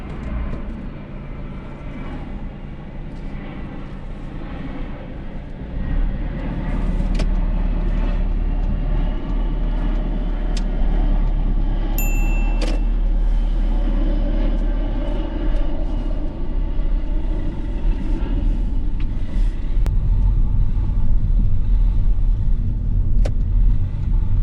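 Car driving on during a UK driving lesson, a steady interior engine and road rumble that rises as the vehicle pulls away and holds for the rest of the stretch.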